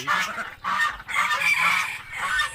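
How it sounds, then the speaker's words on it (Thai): Several laying ducks honk and quack in loud bursts close by, the calls coming in uneven groups with short pauses between. "อันนี้เป็ดพันไข่"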